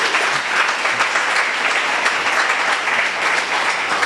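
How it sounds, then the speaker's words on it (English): A crowd of attendees applauds the lightning talk speakers at a PyData conference evening session, dense and continuous clapping that stays loud and even throughout. "let's have one more round of applause for all of our speakers for the lightning talks"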